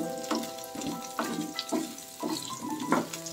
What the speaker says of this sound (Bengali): এতে একটু ভেজে নেব পেঁয়াজগুলো, এতে ভেজে নেব ভালোভাবে। পেঁয়াজগুলো ভাজবো